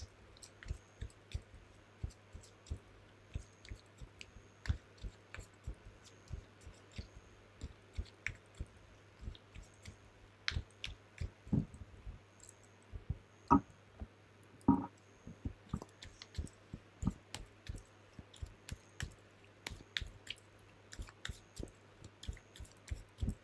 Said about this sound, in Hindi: दोनों ही डेक्स में आपके सामने शफल कर देती हूँ तुला राशि।